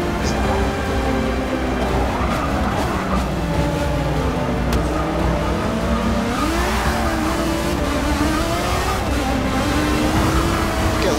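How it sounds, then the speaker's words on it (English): Aston Martin engine in Forza Motorsport 6 revs and pulls hard under acceleration, a steady loud drone rising and falling in pitch, with tire noise and someone talking over it throughout. "Literally hear that fucking Aston Martin want to just take off as soon as I hit my foot on the gas."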